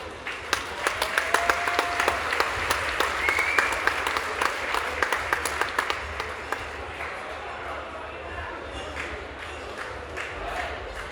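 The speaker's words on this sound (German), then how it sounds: "Nochmals einen riesen Applaus für unsere Stanzensänger." Big round of applause for Gstanzl folk singers at a Whitsun festival in Bad Kötzting, sustained crowd clapping with scattered cheers that gradually thins and fades toward the end.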